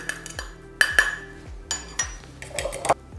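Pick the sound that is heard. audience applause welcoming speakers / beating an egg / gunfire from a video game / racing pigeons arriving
beating an egg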